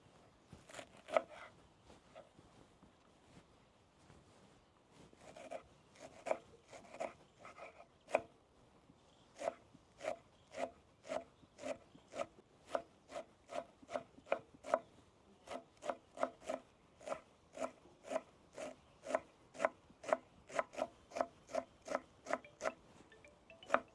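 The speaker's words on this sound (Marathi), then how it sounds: "आपण आता कोथिंबीर चिरून घेऊ" Fresh coriander leaves chopped with a knife on a board, a long run of crisp rhythmic chops that starts sparse and settles into a fast, even beat, close and clear with no talking.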